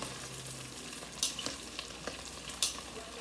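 Onions fry and caramelize in a pan, a quiet continuous sizzle broken by a few spatula scrapes and taps as they are moved around, with no talking.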